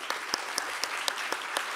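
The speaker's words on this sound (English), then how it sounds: "A round of applause for the Vice Minister." Conference attendees at a biodiversity and climate change session clap for a departing Vice Minister; the applause is a light, even patter with distinct louder claps recurring at a steady rhythm, with no voices heard.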